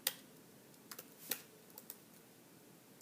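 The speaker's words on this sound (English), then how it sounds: "I would just go ahead and start typing in" Sparse key presses on a computer keyboard while numbers are entered into a statistics calculator, a handful of faint, irregular clicks spread over a few seconds in a quiet room.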